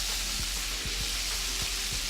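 Hennessy hot sauce glaze in a pan at a steady boil on the stove, an even bubbling sizzle with a few soft low pops throughout, close and constant, no talking.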